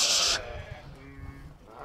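A young female lamb lets out one loud, close bleat at the very start. It stops abruptly and leaves quiet farmyard background.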